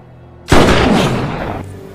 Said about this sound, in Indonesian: saat merayakan tembakan jitu yang membunuh Ned Pepper dari jarak 360 meter itu